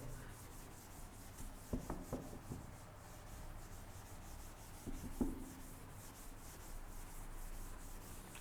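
Chalk is rubbed off a classroom blackboard. A few faint, short scraping strokes come in two brief clusters over a quiet room background.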